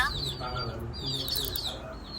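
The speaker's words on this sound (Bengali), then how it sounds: "হচ্ছে আমার মুরগির বাচ্চা" Young chicken chicks call close by in short, high, repeated peeps and soft clucks, overlapping in a busy cluster.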